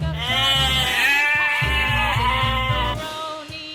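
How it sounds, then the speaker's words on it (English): A sheep bleats loudly and close up in one long, wavering call that lasts almost the whole stretch, alone with no talking. "Sheep."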